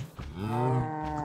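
One long, close moo from a Minecraft cow, a rich droning call that swells and fades over roughly a second, heard alone against a quiet background.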